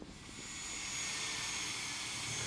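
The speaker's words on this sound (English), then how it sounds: "It's a Cessna Mustang." A Cessna Mustang light business jet arrives in Madras, Oregon, its engine producing a steady, rising whine and rumble that grows slightly louder, fairly faint and heard without talk.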